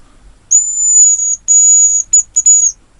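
Close, loud high-pitched whistling from a hazel grouse decoy: one long drawn note, then a shorter one and a quick broken trill, thin and piercing against near silence.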